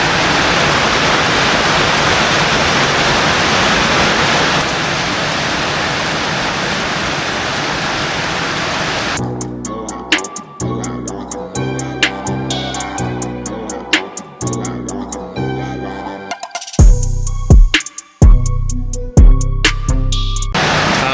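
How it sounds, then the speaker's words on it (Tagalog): A heavy, steady roar of rain fills the first half, then abruptly gives way to loud rhythmic music with sharp beats. "tapos wala pa rin tigil yung ulan"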